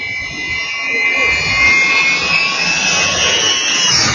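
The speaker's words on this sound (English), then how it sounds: "An airplane just flies by right beside you." Ilyushin Il-76 military jet of the Ukrainian Air Force in a low flyby, a loud roaring whine with a high steady engine tone that swells and holds as the aircraft passes close.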